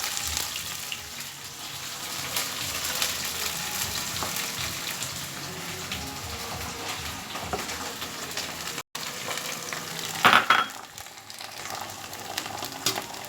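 Prepared sauce poured into frying chilli cauliflower in a pan, giving a steady close sizzle with a splashing gush near the end, no talk.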